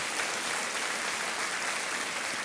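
A studio audience on a TV quiz show claps in a sustained, dense round of applause that fills the whole stretch without pause.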